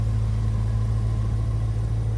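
A 2025 Porsche Cayenne Turbo E-Hybrid coupe with a titanium exhaust idles nearby, its engine holding a steady, deep, even hum throughout with no voices.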